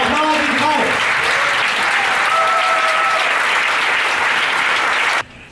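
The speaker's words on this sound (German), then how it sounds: "großen Applaus heute" Audience applause fills a hall, a dense steady wash of clapping that runs loud for about five seconds and then cuts off abruptly, with a few faint tonal voices mixed in near the start.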